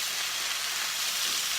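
Chicken pieces sizzling in a hot pan for chicken Marsala, a steady broadband hiss of frying fat that stays even and fairly quiet throughout, with no voices.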